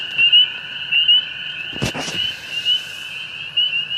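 A leopard frog calls at night beside a flooded pool, giving repeated close, loud croaking pulses in a steady rhythm, with a brief knock or rustle midway and no talking.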